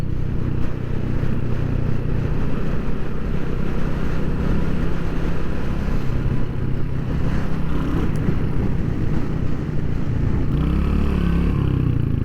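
Royal Enfield Hunter 350 motorcycle being ridden, its steady engine drone loud and continuous throughout with wind rush, swelling slightly near the end as the rider accelerates.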